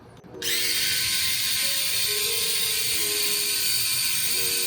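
After a click, a Xiaomi Mijia S300 electric shaver motor starts and runs with a steady high-pitched whirring buzz, around 82–83 decibels, close and constant with no pauses.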